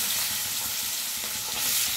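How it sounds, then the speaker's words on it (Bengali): Hilsa fish pieces fry in hot oil, giving a steady, close crackling sizzle with small pops throughout. "তেল আমার গরম হয়ে গিয়েছে, এবার মাছগুলো ভেজে নিচ্ছি।"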